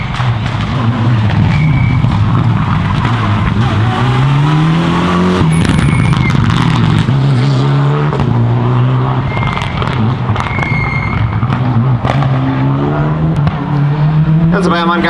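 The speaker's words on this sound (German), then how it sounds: "das erste Auto scheint gestartet, also Gastner Junior auf der Strecke" A rally car engine revs and roars along a stage at the ADAC Wikinger Rally 2014, pitch rising and falling through gear changes, with a German-speaking commentator talking over it throughout.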